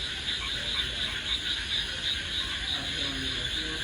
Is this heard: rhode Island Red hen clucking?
no